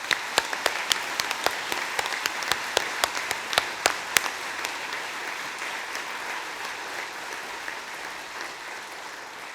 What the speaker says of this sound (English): So let's give them a round of applause too.